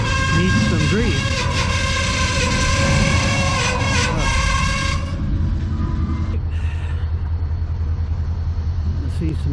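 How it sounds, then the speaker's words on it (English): A train passes on a cold morning walk, loud rumbling and screeching wheel noise with tonal squeal that fills the first half, then fades to a lower rumble as it moves away, with a voice briefly heard. "See some train action."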